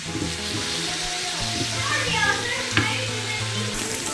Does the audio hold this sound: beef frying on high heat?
yes